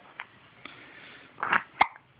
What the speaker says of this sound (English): This is what the hiccups look like